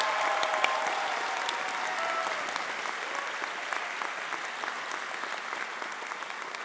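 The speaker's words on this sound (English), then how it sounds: "Please let's give them a round of applause." A large graduation crowd applauds the Hector J. Garcia Early College High School class of 2025, with sustained steady clapping that fills the hall and a faint murmur of voices underneath.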